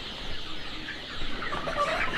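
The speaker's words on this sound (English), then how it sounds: "this is our chicken currently" Chickens clucking and chattering inside a poultry coop with roosting perches, a steady run of overlapping calls at moderate loudness over a rough background, with no talking.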